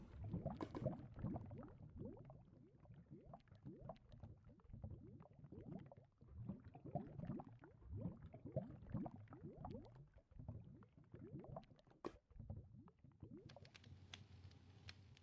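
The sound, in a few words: lava bubbling in the video game Minecraft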